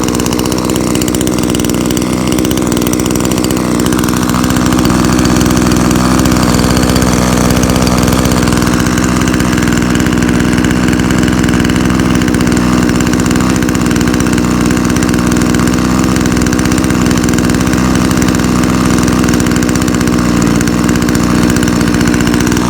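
Shindaiwa F22 two-stroke weed trimmer engine running at a steady, loud, buzzy idle up close, holding continuously throughout without any voices.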